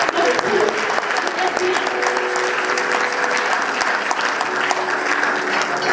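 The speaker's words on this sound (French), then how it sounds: "Acclamez bien pour eux." A church congregation applauds for the Lord, steady dense clapping sustained throughout at close range, a full room of hands with faint voices mixed underneath.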